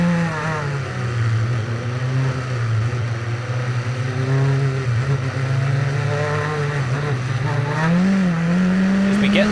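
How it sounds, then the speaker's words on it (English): Race cars on a wet Pau Grand Prix street circuit, some on slick tyres, power toward the final right-hander after a restart. One loud, close engine drones steadily, then its pitch climbs as it accelerates. "the drivers are at the final section of the lap, accelerating towards the last right-hander at turn 15"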